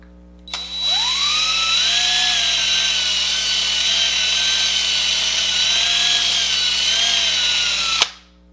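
A power drill bores steadily into the chrome rivet post of a Hot Wheels toy car's wheel, whining at a constant high pitch for about seven seconds before stopping abruptly.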